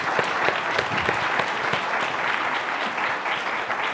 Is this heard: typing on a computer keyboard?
no